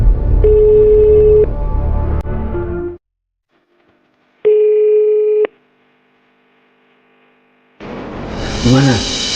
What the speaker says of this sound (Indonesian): Telepon nggak diangkat.